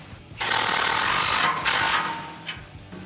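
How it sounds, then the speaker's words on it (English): A power tool or impact wrench runs steadily for about two seconds while driving the top bolt on an HD replacement front bumper for a 2018-2020 Ford F-150, then tapers off with a few faint clicks. "Now you're basically tightening down the rest of your bolts."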